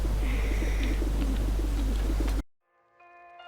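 Pigeons coo in short low repeated phrases over a steady hum for about two and a half seconds, then cut off abruptly, leaving faint music in the background.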